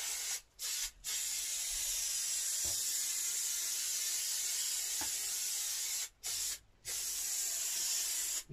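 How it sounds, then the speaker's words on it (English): An aerosol spray can hisses steadily and close up while spraying the front of a wooden cupboard door in a camper van conversion, with a few brief pauses between long bursts. "need to spray all the front."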